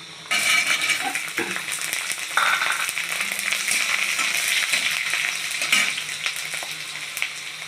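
Garlic dropped into hot mustard oil with mustard seeds for a Bengali dish, producing a busy crackling sizzle with a few sharp pops and light clinks of a utensil, no talk.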